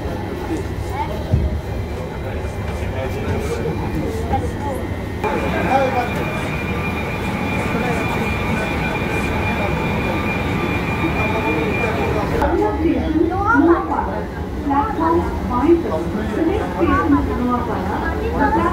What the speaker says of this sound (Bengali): মেট্রো এবার বাইরের দিকে চলে যাচ্ছে।